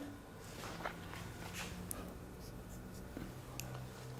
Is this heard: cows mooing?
no